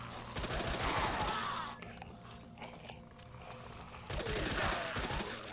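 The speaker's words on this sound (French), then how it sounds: "j'ai des balles, donc je vais utiliser mon arme" Gun firing at zombies in a Minecraft zombie apocalypse game, with loud dense bursts of rapid shots at the start and end and a quieter stretch between them.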